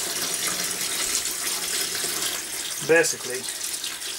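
Water is poured steadily into a tub for electrolysis rust removal, a continuous splashing gush throughout, and someone speaks briefly near the end.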